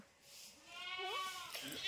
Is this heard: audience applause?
no